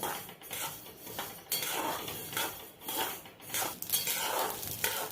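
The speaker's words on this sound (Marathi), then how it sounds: "गावरान मोहरी घेतलेली मोहरी आपल्याला भाजून घ्यायची अगदी कमी गॅसवर" Mustard seeds roasting in a pan over low heat, with a soft, continuous crackle and faint rattling as the seeds shift, broken by scraping stirs against the pan, heard close and with no talking.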